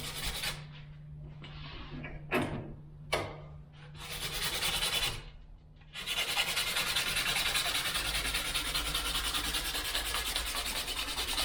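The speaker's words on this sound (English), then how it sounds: "And that's also helping scuff up the existing varnish on the edge as well." Sandpaper scuffs existing varnish on the edge of a wooden canoe paddle, first in short separate rubbing strokes with pauses, then as continuous close scratchy rasping.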